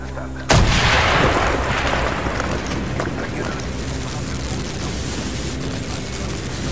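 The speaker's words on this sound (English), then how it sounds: "blow a hole in that fucking wall" An explosion blows a hole in a wall in Call of Duty: Black Ops, a sudden loud blast followed by a long rumbling, debris-filled decay with battlefield noise continuing.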